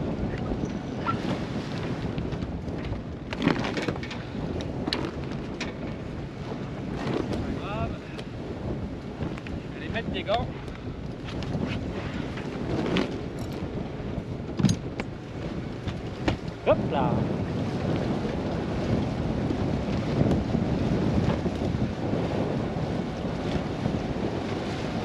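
Strong wind gusts of about 16-17 knots buffet the microphone steadily on a sailboat, with water rushing and slapping against the hull and occasional knocks and creaks aboard.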